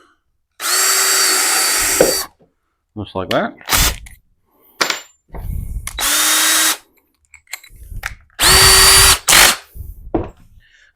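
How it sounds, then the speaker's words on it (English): A power drill bores into a handmade mushroom yard decoration in several loud, steady bursts of whine separated by clicks, handling noise and short pauses, with a voice speaking briefly between runs. "drill right down in the middle here."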